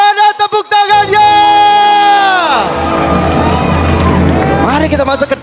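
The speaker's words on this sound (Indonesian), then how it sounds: "MPL Arena, mana tepuk tangannya?" A large esports arena crowd at an MPL Indonesia Season 16 Mobile Legends match cheers and roars loudly, following a sustained electronic tone with a descending sweep, with dense, continuous crowd noise throughout.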